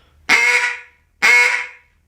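A handheld duck call blown in two separate, evenly spaced quacking notes, each cut off sharply, loud and close with no talking.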